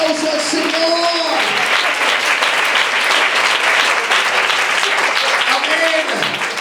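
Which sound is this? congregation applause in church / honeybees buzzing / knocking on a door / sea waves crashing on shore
congregation applause in church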